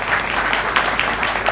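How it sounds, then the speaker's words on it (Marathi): An audience at a Buddhist sermon claps with even, continuous applause, and a few louder claps pop out from the dense wash. "त्यांच्यासाठी एकदा टाळ्या वाजवा"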